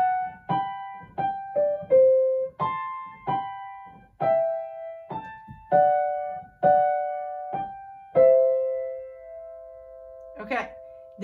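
Piano playing a song at a slow tempo: separate notes and chords struck one by one, each decaying before the next, with clear pauses, played alone in a quiet room.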